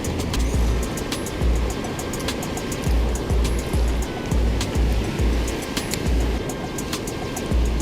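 A rushing river in fast, high flow roars steadily and close. Rhythmic low thumps and splashes run under a constant wash of water.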